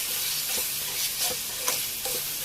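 Masala being stirred in a hot pan, a steady sizzling hiss broken by a few soft scraping strokes of a spoon, close and alone.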